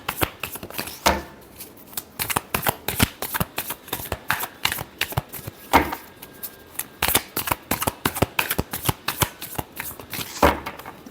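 A deck of tarot cards is shuffled by hand, close and clear, with repeated riffling bursts and soft slaps in an uneven rhythm that continues throughout.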